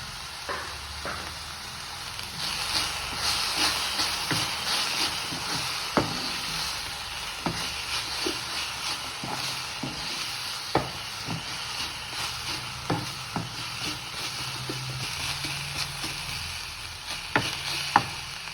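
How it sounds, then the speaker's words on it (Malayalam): Chicken samosa filling, seasoned with salt and pepper, sautés in a pan with a steady close sizzle and occasional scraping stirs throughout. "ഇതെല്ലാം നന്നായി വഴന്നു വന്നിട്ടുണ്ട്"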